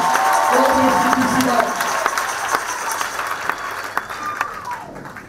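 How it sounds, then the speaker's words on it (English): A church congregation applauds a testimony of healing, a dense wash of clapping with scattered shouts and sharp individual claps, loud at first and slowly thinning while voices carry on beneath. "Let's clap Jesus for this testimony."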